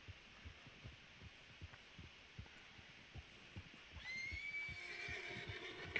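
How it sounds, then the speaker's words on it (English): A horse in Red Dead Redemption 2 snorts softly in a slow, thumping rhythm, then lets out a long, clear, nervous whinny that swells near the end. "Gosh, what are you so nervous about, horsey?"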